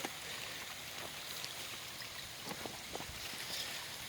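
Water overflowing the sill of a backyard fish pond makes a soft, continuous trickling and splashing wash, fairly quiet and steady with faint brief spatters and no voices.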